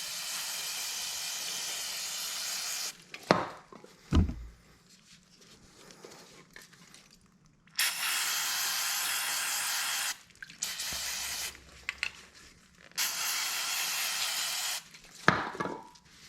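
Brake fluid is sprayed from a can to rinse a Vespa Sprint 150 or Primavera 150 oil screen, heard as three long, close hissing bursts separated by quieter gaps with a few sharp clanks and knocks.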